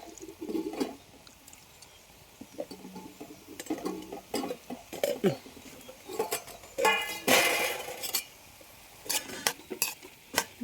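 Grated coconut stirred into spinach cooking in a pan, heard as intermittent scrapes and clinks of a spoon against the pan over a faint sizzle, with louder stirring bursts toward the end. No one speaks.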